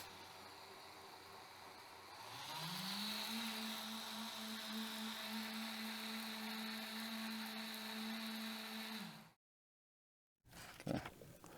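A kitchen blender runs steadily for several seconds during a cooking demo, its motor whine rising as it spins up and then holding a constant droning pitch before cutting off abruptly, followed by a short clatter.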